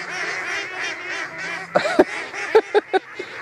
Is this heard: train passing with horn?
no